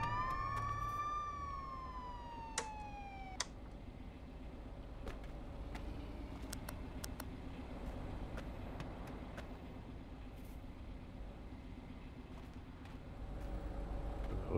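A police car siren in the border-patrol video game Contraband Police, a rising and falling wail that starts loud, cuts off after a few seconds, then leaves a low engine drone with faint clicks.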